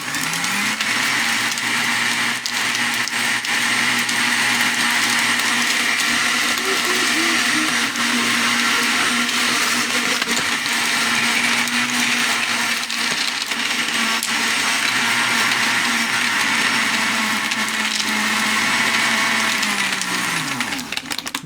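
A blender runs steadily on a piña colada cocktail with ice, a loud, continuous whirring grind with a faint rattle of chunks, holding level for about twenty seconds before winding down at the end.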